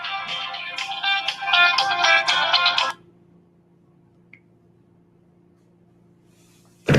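A phone ringtone chimes loudly in a repeating melodic pattern for about three seconds, then stops abruptly as the phone is switched off, leaving a quiet room hum at an open house.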